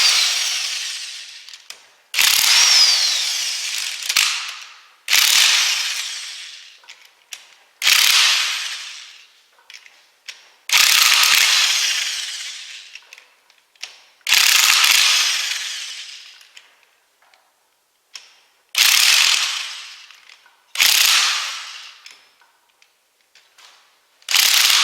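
A hand ratchet backs out reverse-thread bolts on a Chevy C10 squarebody 10-bolt rear axle, sounding as repeated bursts of close, sharp clicking separated by short pauses, with no voices.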